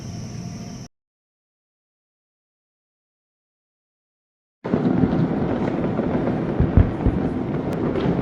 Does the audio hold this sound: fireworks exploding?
yes